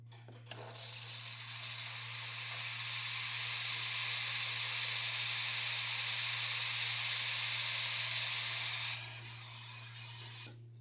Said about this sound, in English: So let's test the steam